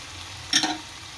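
Turmeric, salt and coriander-cumin powder are mixed into green onion curry frying in a pan: one brief close sizzling stir stroke against quiet background.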